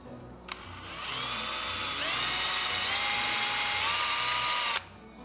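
A high-pitched rotary tool whines steadily as it carves shallow eye sockets into a wooden crankbait lure, its pitch rising once partway through, close and continuous for about four seconds before cutting off abruptly.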